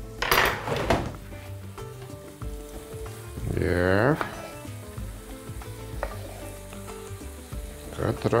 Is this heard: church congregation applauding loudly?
no